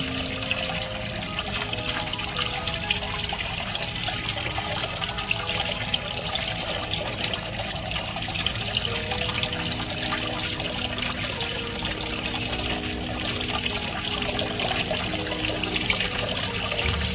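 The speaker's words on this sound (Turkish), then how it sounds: "sıcak suyla yıkıyoruz" Hot tap water runs in a steady, unbroken stream for the whole stretch, a constant close splashing wash with no voices.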